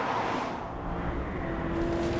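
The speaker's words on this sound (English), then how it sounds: "A Volvo S80." Volvo S80 driving on a wet track in light drizzle, a steady close engine and road hiss sustained for a couple of seconds.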